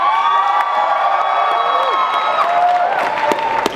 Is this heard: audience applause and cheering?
yes